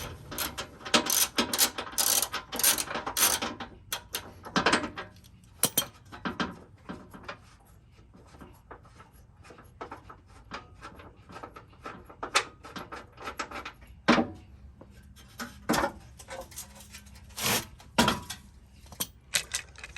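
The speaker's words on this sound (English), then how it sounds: "I'm going to open this up, bring it down, and show you how I use my clamshell." Metal latches, ratcheting mechanisms and clanks sound as a Vanagon spare tire clamshell carrier is opened and lowered, with irregular close clicks, rattles and bumps spread over a quiet background.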